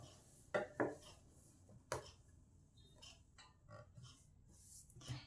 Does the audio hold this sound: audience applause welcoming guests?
no